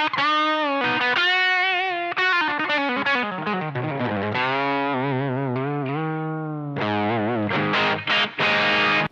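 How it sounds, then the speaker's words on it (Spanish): T-Rex Mudhoney II distortion pedal driving an electric guitar, loud overdriven chords and riffs played continuously with sustained saturated notes, brief gaps between phrases, and no talk. "Si para tu gusto una distorsión como esta resulta estar demasiado media"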